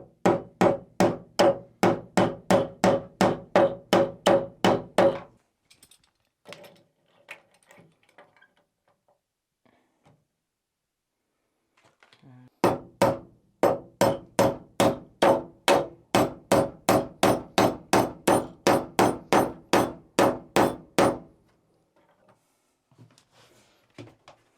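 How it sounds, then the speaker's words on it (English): Hammer driving a leftover nail into the wooden wall of an island outhouse in Finland: two long runs of steady, evenly spaced sharp blows, loud and close, separated by a quiet pause with faint handling. "I'm just gonna use one of the leftover nails, and as long as I don't smash it all the way in"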